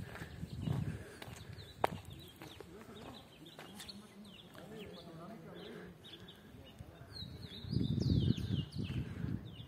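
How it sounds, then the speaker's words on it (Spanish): Outdoor ambience with scattered bird calls and chirps, some faint and distant, over a low rumbling background and occasional soft movement sounds. "solamente algunas aves se escuchan."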